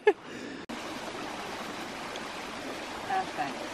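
Clear freshwater spring water running steadily in a continuous broadband wash outdoors, fairly close, with a brief bump near the start and faint voices or bird-like tones later.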